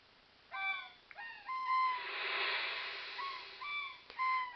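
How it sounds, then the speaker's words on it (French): Seagull cries in the Super Nintendo game Chrono Trigger, rendered as synthesized, tonal bird calls in short repeated bursts with a steady ambient wash behind them, no talking. "Les mouettes."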